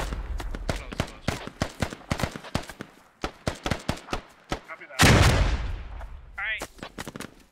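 Pistol shots in a Squad tactical shooter game ring out as a long string of sharp, separate cracks at an uneven pace, then a heavier blast with a trailing rumble and a short chirping sound.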